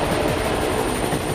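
An Indian Light Combat Helicopter in flight, a steady droning rotor and engine roar with faint rhythmic chopping, constant and fairly loud throughout with no voices.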